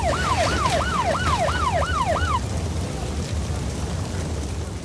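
A wailing emergency siren, fire engines and a police car at a roadblock, rising and falling in a fast regular cycle, loud at first and then cutting off, leaving a steady rumble of traffic and street noise.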